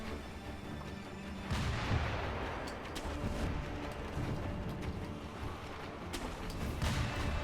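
Gunfire and booming combat effects from the action game Sekiro: Shadows Die Twice, set at a gun-heavy fort, a steady dense rumble of shots and impacts continuing throughout with no speech.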